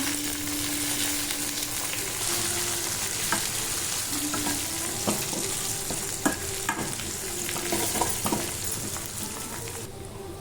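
Curry leaves and coriander sizzle in hot oil in a pan for a tempering, giving a steady, close frying crackle with occasional sharper pops and stirring scrapes.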